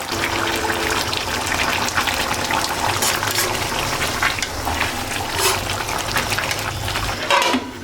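Water poured into a pot of simmering chicken curry seasoned with chili, a continuous close gushing and bubbling wash with faint clinks toward the end.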